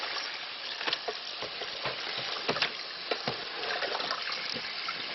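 Running water pours steadily from a tap over a pudding cloth being rinsed, a continuous hiss with small splashes and cloth handling throughout, no voices.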